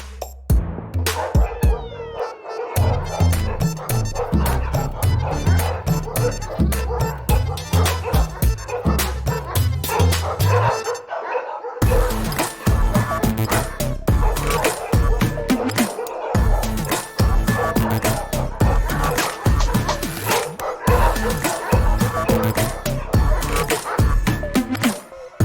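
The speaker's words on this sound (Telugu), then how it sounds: "అసలే ఈ మధ్య వీధి కుక్కలు దారుణంగా ప్రవర్తిస్తున్నాయి." Street dogs bark and yip repeatedly through the whole stretch, sometimes whimpering, mixed with other busy background sound and occasional voices.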